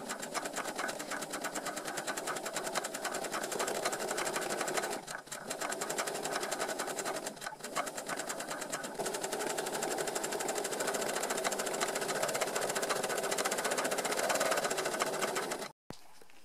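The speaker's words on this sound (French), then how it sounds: "Et je vais piquer des deux côtés." Sewing machine stitching a faux leather pouch along both sides of a ribbon, a steady loud rapid needle rattle running continuously with two brief pauses before stopping at the end.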